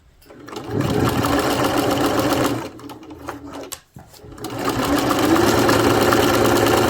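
A sewing machine stitches a seam on a fabric project bag, a steady loud close whir that pauses briefly midway for adjustment, then resumes at full speed.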